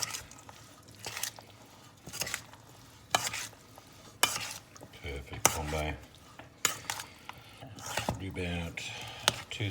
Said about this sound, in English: We're just going to stir it around.